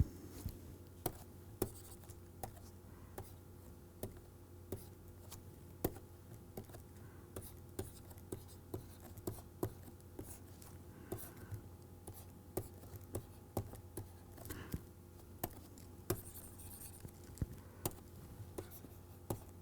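Chalk or marker tapping and scraping on a lecture-hall board while a proposition is written out, a steady series of soft, brief strokes over a low room hum with no talking.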